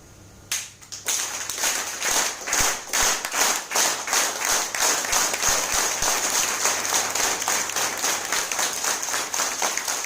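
Seminar audience clapping hard and fast, a dense continuous burst of many hands that starts abruptly and keeps up steadily without letting up, loud and close, with no talk over it.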